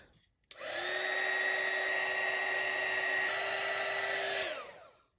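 A heat gun blows with a steady, fairly quiet whirring drone for about four seconds while shrinking heat-shrink tubing on a battery cable for a truck battery terminal, starting with a click and winding down at the end.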